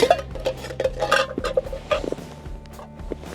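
Fishing groundbait being stirred by hand with an added ingredient, with scraping and clinking against a container in quick irregular strokes, close and fairly loud.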